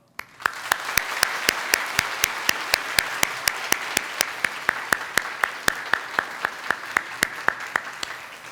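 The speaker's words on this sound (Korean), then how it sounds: "우리 인사할 때 환영과 축하의 박수 부탁드립니다." Steady applause from a church congregation at a Sunday worship service fills the room, with a few sharper individual claps ringing out in a regular rhythm above the crowd.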